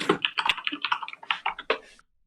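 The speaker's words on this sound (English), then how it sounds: "you're typing very frantically" Rapid, clattery keystrokes on a loud keyboard, a quick burst of clicks close up that stops abruptly.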